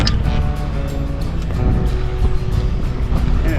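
Gemini 3200 catamaran idling out of a bay toward open water, a low steady engine drone with water sloshing against the hulls and a faint rhythmic knocking, loud and close.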